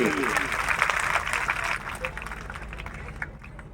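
An audience at a birthday dance program breaks into applause, a dense clatter of clapping that fades after about two seconds while a voice talks over it.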